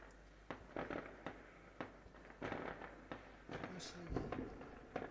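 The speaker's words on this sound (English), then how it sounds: "Fireworks going off." Fireworks going off outdoors on New Year's Eve, a series of sharp bangs and crackling bursts at irregular intervals, some close and loud, with people talking over them.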